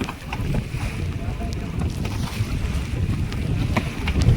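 Steady wind and rain wash over a small boat out fishing for conch, a constant rushing roar with low rumbling buffets against the microphone and no clear voices.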